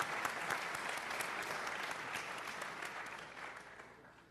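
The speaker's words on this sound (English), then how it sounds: "Big round of applause for Mr. Jeff King." Sustained applause from a crowd, dense clapping that stays steady and slowly fades toward the end, with no voices over it.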